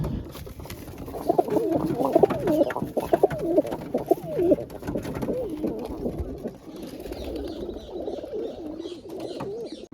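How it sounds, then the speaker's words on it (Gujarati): Pigeons coo close by in repeated throaty, rolling bursts, with fluttering and scuffling noises in between and a faint background hum. "અહીંયા કબૂતર આવી ગયા અને લડાઈ થઈ છે ક્યાંક ક્યાંક"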